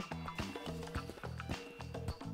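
Rapid clip-clop of galloping horse hooves in the video game Bully, in an uneven rhythm, with music-like tonal layers underneath, fairly loud and close.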